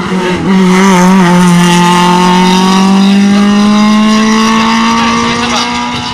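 Race cars at a hill climb event at Pourville, with loud engine notes rising steadily through the gears as a car accelerates up the course, a sustained near roar over crowd murmur.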